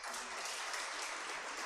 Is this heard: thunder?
no